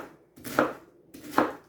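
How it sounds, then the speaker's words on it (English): Two crisp knife chops through cabbage on a cutting board, evenly spaced and close, each with a short crunchy thud, with no talking. "That's about how I chop that up, about like this"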